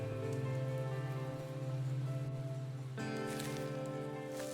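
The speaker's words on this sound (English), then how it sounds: "The rain is actually pretty quiet." Soft, steady rain falls in the survival crafting game Above Snakes, a quiet hiss running under sustained music tones with a few faint clicks.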